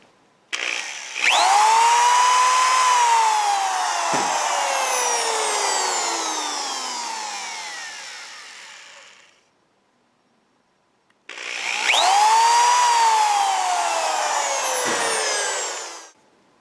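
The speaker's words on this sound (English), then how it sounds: "Okay, I have a 1/16 of an inch drill bit." A power drill fitted with a 1/16 inch bit drills into a kendama part for a Kylo Ren lightsaber, two long whirring runs with a high pitch that spins up and slowly winds down, separated by a short pause.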